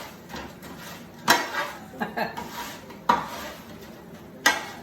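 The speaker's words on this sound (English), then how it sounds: "Gonna give that a stir." Crispy roast potatoes are stirred in a pan, giving a low sizzle under a few sharp, loud metallic scrapes and knocks of the utensil against the pan, spaced irregularly.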